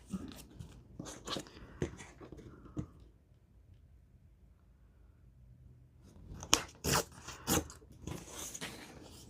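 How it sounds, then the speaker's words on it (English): Book paper being torn along a lined-up edge gives sharp, close ripping and crinkling bursts, a cluster at first, then a quiet pause, then several more crisp tears and rustles. "just tear off the little excess at the bottom after we've lined it up"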